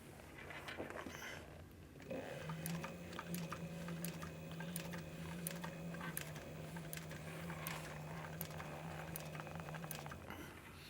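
A sewing machine stitches a leather pocket inside a pair of chaps, running in one steady continuous whir for about eight seconds, close and fairly quiet with a faint mechanical hum under it.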